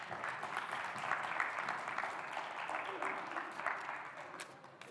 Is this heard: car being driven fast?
no